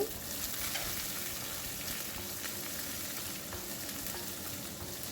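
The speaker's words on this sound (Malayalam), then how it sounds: "ബാക്കിയുള്ള ഇൻഗ്രീഡിയൻസും കൂടെ ആഡ് ചെയ്യാം കറിവേപ്പിലയും മുളകും കൂടെ നമുക്ക് ഇട്ട് കൊടുക്കാവുന്നതാണ്" Curry leaves and chilies sizzle and crackle steadily in hot oil for an iron-bilimbi pickle, a dense, continuous frying hiss with occasional pops, alone and fairly close.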